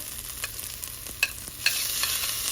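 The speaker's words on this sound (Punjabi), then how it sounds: "ਹੁਣ ਆਪਾਂ ਪਿਆਜ਼ਾਂ ਨੂੰ ਥੋੜੇ ਜਿਹਾ ਬਰਾਊਨ ਕਰ ਲਵਾਂਗੇ" Onions browning in a pan, with a close, soft sizzle broken by a few light scraping stirs, turning slightly louder and hissier toward the end.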